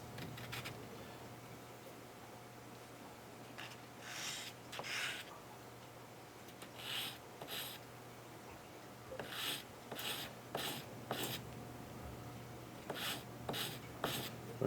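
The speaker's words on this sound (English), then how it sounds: "I'm just polishing" Hand filing and polishing a 1911 pistol grip safety, short rasping strokes in uneven bursts that pick up pace toward the end, close and moderately quiet, with no talking.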